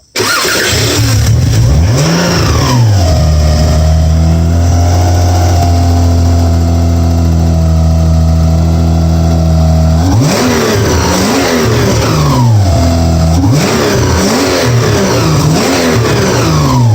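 A 3.3-liter Subaru SVX engine swapped into a 1999 Outback revs repeatedly, rising and falling in steady throttle blips, with a sustained loud run between, close and alone with no talk.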